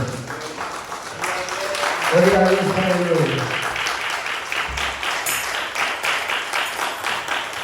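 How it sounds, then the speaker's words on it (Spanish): A church congregation claps for the Lord during a service, a dense, steady patter of hands running under a preacher's voice and sung or chanted lines throughout. "denle un aplauso al Señor porque Él se lo merece"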